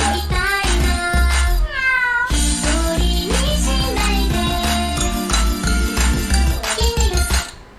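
A cat meowing repeatedly and loudly in close range, its rising and falling calls carried over a steady musical backing with some light jingling.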